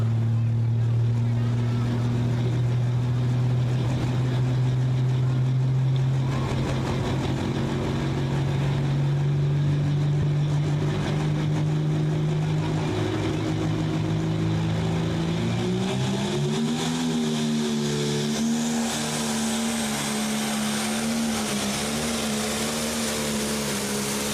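A John Deere 7310R tractor roars loud and steady at a tractor pull at a county fair, the engine note climbing as it pulls, while an announcer talks over it.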